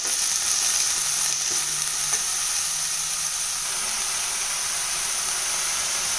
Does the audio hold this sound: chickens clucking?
no